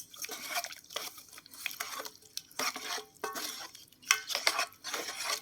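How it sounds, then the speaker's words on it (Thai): A spoon stirs straw mushroom soup in a pot after spring onion and coriander are added, giving irregular clinks and wet scraping strokes, close and moderately loud, with no talking. "คนเลยค่ะ"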